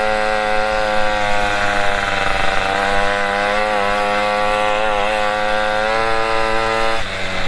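A car engine laboring up a hill on a drive, a loud close droning whine whose pitch wavers steadily as the motor pulls under load.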